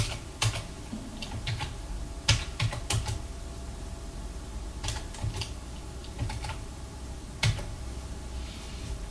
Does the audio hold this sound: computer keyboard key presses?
yes